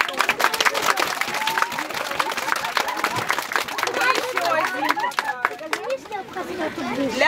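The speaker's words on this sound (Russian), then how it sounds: "Аплодисменты!" Audience applause at a children's festival in Gudauta, a crowd clapping steadily through lively chatter and cheering voices close by.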